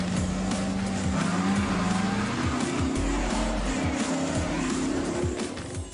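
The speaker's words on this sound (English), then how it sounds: "these cars spin out of control" Cars hoon and spin out of control at an illegal street gathering, engines roaring and tires squealing continuously in a loud sustained wash, with a large crowd standing nearby.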